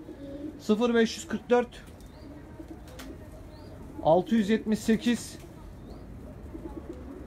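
Pigeons in a loft coo in two short clusters of throaty calls, close and moderately loud over a quiet room, with faint speech-like sounds in the background.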